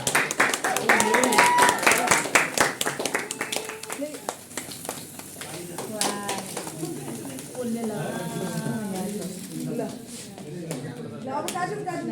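Scattered hand claps ring out under lively crowd chatter and voices, with bird coos mixed in; clapping is strongest early, then thins out.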